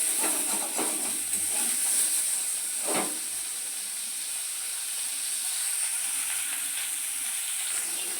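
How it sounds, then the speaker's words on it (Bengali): Rohu fish pieces frying lightly in a pan give off a steady, fairly loud hiss and sizzle that runs unbroken from start to finish, with a few brief crackles rising above it. "একটু হালকা করে ভেজে দিলাম একদম হালকা করে"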